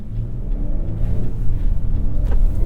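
Engine of a 2022 Nissan Frontier pickup pulls under throttle, a loud low rumbling drone that swells slightly as the truck accelerates, heard from the cabin with no talking.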